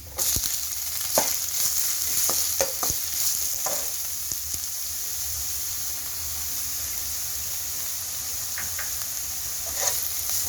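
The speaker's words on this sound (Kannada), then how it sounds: "ಈಗಿನ ಕಲರ್ ಬಂದಾದಮೇಲೆ ನಾವು ಕಟ್ ಮಾಡಿಟ್ಟಿರೋಂಥ ಈರುಳ್ಳಿ ಹಾಕ್ಕೊಳ್ಳಿ" Chopped onions fry in a hot pan for a vegetable momo filling, giving a steady close sizzle with a few sharp stirring clatters and scrapes scattered throughout, and no voices.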